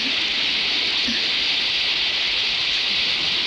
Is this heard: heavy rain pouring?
yes